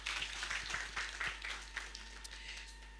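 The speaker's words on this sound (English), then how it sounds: "Ladies and gentlemen, a round of applause for Xenia" An audience at an HR conference applauds a speaker, a faint, somewhat distant wash of clapping that holds steady for a few seconds and then tapers off.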